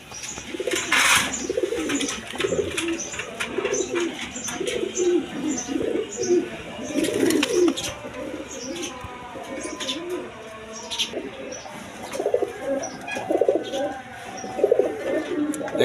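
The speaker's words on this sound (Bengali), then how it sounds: "এইখানে এক পেয়ার গররা কবুতর আছে দেখেন" A pair of pigeons offered for sale coo repeatedly at close range in rolling, throaty phrases, while other birds chirp and tweet faintly in the background.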